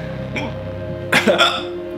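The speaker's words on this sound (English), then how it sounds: "And here come the hiccups." Hiccups after eating extremely hot chicken wings made with Pepper X hot sauce, two or three short, sharp, close vocal jolts with a voice nearby.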